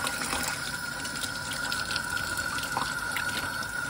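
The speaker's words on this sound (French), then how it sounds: "Ah, mais j'arrive pas à régler mon eau. Voilà, là, elle est bien." Water runs steadily from a tap in a continuous close rushing stream, with no one talking.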